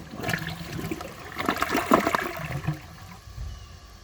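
A 2004 Crane Sureflush toilet flushing a washcloth: a loud rushing gush of water swells and gurgles through the bowl, then drains away into a softer trickle, heard up close with no speech.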